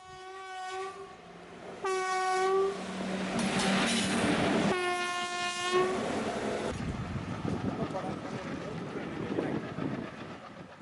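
A railway engine on a full-speed trial run between Villupuram and Tiruvannamalai sounds two long, loud horn blasts as it passes close, then its wheels and wagons rumble and clatter on, with a voice talking faintly underneath.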